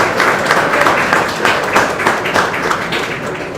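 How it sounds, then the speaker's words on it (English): An audience at a React developer meetup in Ahmedabad claps in a dense, loud round of applause that holds steady throughout. "let's have a huge round of applause for all of you for coming actually"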